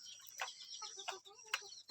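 Jungle fowl, a wild chicken kept in the forest, gives soft, short clucks, four or five in a row, close by and fairly quiet, against faint background noise.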